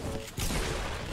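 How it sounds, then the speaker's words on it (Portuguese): A sniper rifle fires once in Fortnite, a sharp blast that cuts through steady loud game noise and then rings out as a rumbling tail. "Vou matar ele de sniper, quer ver"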